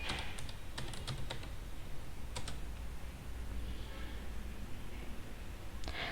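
Computer keyboard typing on an Ubuntu system, a few quick clustered keystrokes near the start, a couple more in the middle and one at the end, faint and close over a low background hum.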